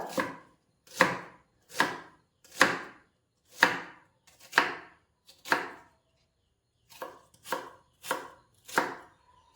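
An onion being chopped with a knife on a board for pickle: a run of about fourteen crisp, evenly spaced cuts, close and clear, with a short pause partway through and no talking.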